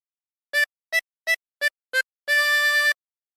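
Oh Susanna phrase on a chromatic harmonica, played with blow and draw notes on holes 5 and 6: five short reedy notes in a row, then one longer held note, played solo and close.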